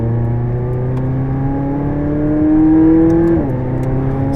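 A 2016 McLaren 675LT engine pulls away on a bumpy road, its steady drone climbing in pitch as it accelerates, then dropping briefly at a gear change, loud and close with no talking.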